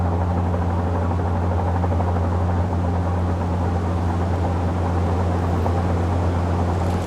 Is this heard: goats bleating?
no